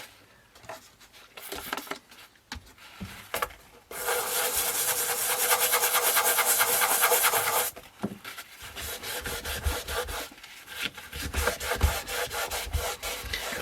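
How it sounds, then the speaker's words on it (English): Scrubbing of dirt off the textured plastic case of a Hitachi WH-1050 radio, heard as close, steady rasping strokes in bursts, with one long continuous stretch of hard rubbing in the middle. "Usually it comes off with a bit of persistent scrubbing work"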